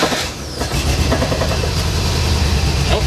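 A project Porsche 914 engine runs close by with a rough, steady idle and some rattling, loud for the few seconds heard.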